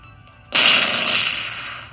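A tank in the Pocket Tanks artillery game fires a shot: a sudden loud boom bursts in after a quiet half second, then rolls on as a long decaying rumble with no talk.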